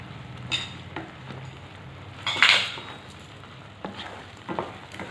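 Sheera of sugar and milk being stirred in a pan, a few soft scraping strokes of a spoon against metal with light sizzling, one louder scrape midway, no voices.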